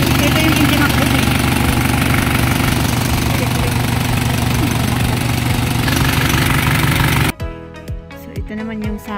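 Isuzu Elf truck engine idling steadily and loudly up close with a dense rumble, cutting off abruptly near the end, leaving quieter clatter and faint background noise.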